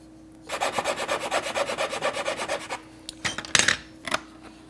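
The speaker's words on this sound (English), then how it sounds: "I just need to sand off a little bit on the end of this one." The end of a wooden brace for an acoustic guitar top being sanded by hand, about twenty quick rhythmic rasping strokes up close, then a few scattered rubs and knocks.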